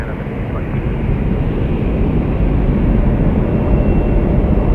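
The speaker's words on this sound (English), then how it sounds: "So many planes." Jet aircraft at Toronto Pearson airport, a steady loud low engine roar from planes lining up and taxiing on the runways, continuous throughout with no voices.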